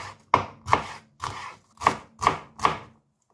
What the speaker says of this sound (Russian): Теперь я режу лук.